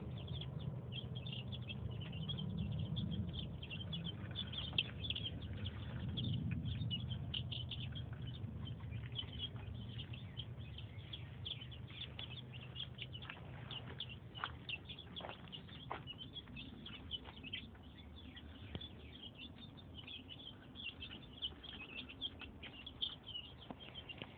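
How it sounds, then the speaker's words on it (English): A group of young chicks in an enclosure peck and scratch at the ground with soft irregular patter and faint chirps, quiet and fairly distant over a low steady rumble. "They're pecking and scratching all over the place."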